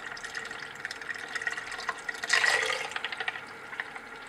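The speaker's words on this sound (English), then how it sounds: "And now in one go, add urea and gelatin solution." A urea and gelatin solution is poured all at once into rapidly stirred bleach in a lab vessel, a steady liquid splash and gurgle that swells midway then settles into bubbling.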